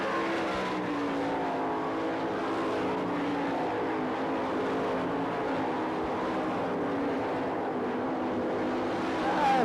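Sprint race cars running around the Knoxville speedway at the Nationals, a dense, continuous roar of engines from a distance blending into a steady drone, with a slight swell at the very end.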